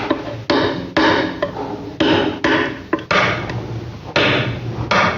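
Stone being trimmed to shape with a hammer, a series of about a dozen sharp, close chipping strikes in an uneven rhythm, each ringing briefly before fading.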